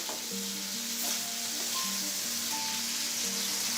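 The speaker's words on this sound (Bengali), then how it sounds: "এখন এই সবজিগুলোকে আমি এই মশলার সাথে ভালো করে মিক্স করে নিচ্ছি" Vegetables being stirred with spices in a cooking pan for a Bengali hilsa fish curry with potato and cauliflower, giving a steady sizzle with scraping stirs throughout, no voices.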